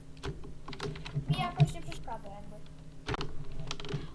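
Computer keyboard typing during a Block Dash Endless gaming session, quick irregular clicks running through the clip beneath an ongoing talking voice.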